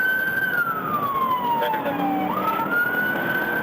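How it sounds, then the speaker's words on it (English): A police car siren wails from a dashcam vehicle during a pursuit, one long descending sweep that dips and then rises again, loud and close over steady road noise. "Deputy McGuigan activated his lights and siren."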